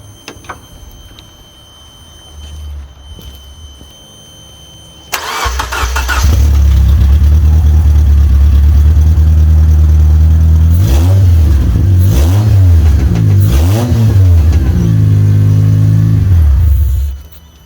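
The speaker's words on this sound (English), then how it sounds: "let's try and start this thing" A 2004 Honda Accord's K24 engine with a makeshift fuel system cranks a few seconds, catches and fires up loud and close, settles into a rough idle, then revs up and down repeatedly before shutting off.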